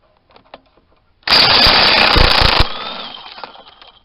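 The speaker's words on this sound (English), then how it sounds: "We'll pull a nut off the flywheel and see what we got." An impact wrench zips the nut off a small engine's flywheel in a loud, steady burst of hammering lasting just over a second, followed by a fainter mechanical whir that trails off.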